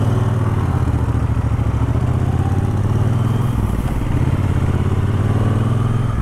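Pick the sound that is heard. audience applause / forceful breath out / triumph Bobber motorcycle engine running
triumph Bobber motorcycle engine running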